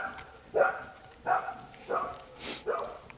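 A pet female dog barks while going after a pigeon, four or five short, mid-distance woofs spaced roughly evenly, fairly faint against a quiet background.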